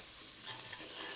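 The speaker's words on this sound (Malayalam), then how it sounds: "ഈ സവാള ഒന്ന് പെട്ടെന്ന് വഴന്ന് കിട്ടാൻ വേണ്ടി നമുക്ക് ഇച്ചിരി ഉപ്പ് ഇട്ട് കൊടുക്കാം" Sliced onions with a pinch of salt sauté in a pan for a chicken roast, giving a soft, steady sizzle with light stirring scrapes, close but quiet, with no voices.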